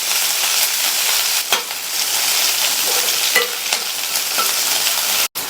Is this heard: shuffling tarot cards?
no